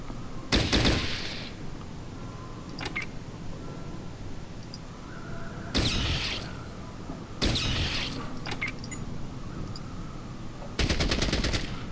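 Bursts of automatic gunfire in the video game Fallout Tactics, several loud separate volleys over a steady background ambience, close and punchy with pauses between them.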